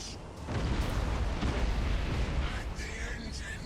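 Torpedoes strike ships in the space battle game Battlefleet Gothic Armada 2, with a rolling series of booming explosions that swell into a sustained rumble, alongside faint voices.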